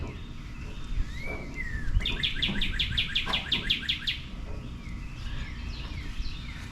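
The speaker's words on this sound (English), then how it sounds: "Birds even enjoy it. Hear them?" Birds sing and chirp outdoors under a clear sky, with a bright run of rapid repeated trilling notes in the middle and scattered softer calls around it, all over a steady low background hum.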